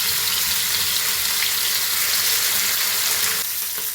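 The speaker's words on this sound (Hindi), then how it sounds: "आप इस तरह से 4 डालकर फ्राई कर लीजिए, अच्छी तरह से फ्राई होंगे।" Bangda mackerel pieces frying in very hot oil, giving a loud, continuous hiss and crackle that holds steady, then eases slightly near the end.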